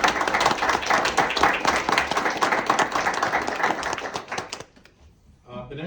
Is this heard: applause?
yes